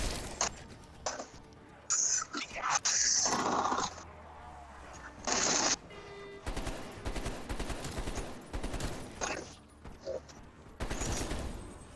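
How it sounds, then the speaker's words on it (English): Auto turrets fire in the Mauer der Toten zombies map of Black Ops Cold War, with loud, repeated bursts of rapid gunfire that start and stop among other busy game sounds. "Well, why are they shooting at us?"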